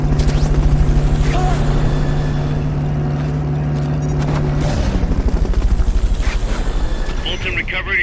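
A Fulton recovery helicopter in Metal Gear Solid Peace Walker: a loud, close, continuous rotor chop pulses rapidly from start to finish, with a sustained engine drone underneath.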